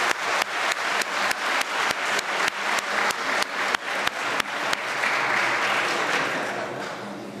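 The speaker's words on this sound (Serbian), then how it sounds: "Molim vas još jedan aplauz za ekipu Bugarske." Applause at a mathematics award ceremony for the Mathematical Grammar School Cup and Junior Balkan competition, honoring the team of Bulgaria. Sharp, regular claps ring out loudly, then blend into a dense, sustained wash of clapping from the audience.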